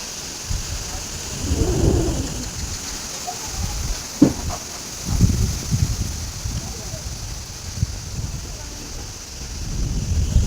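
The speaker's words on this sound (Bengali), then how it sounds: "মেঘ ডাকছে।" Thunder rumbles low and heavy during a cyclone storm with rain, several rolling booms and a sharp crack rising over a constant wash of rainfall and wind buffeting the microphone.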